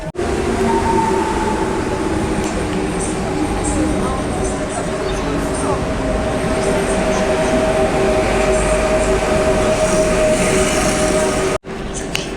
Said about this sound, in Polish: Z Berlina teraz przyjedzie pociąg i to samo tłumy